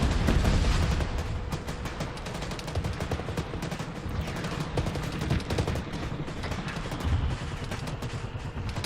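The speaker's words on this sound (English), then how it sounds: "We're taking mortar fire." Mortar fire in the combat video game Arma 3, set among dense, continuous battlefield gunfire with rapid cracking shots and muffled booms rolling throughout, moderately loud with no pauses.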